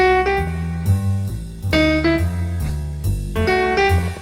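A short melodic lick of separate notes, some slipping in from just below, plays with a loose swinging rhythm, close and steady.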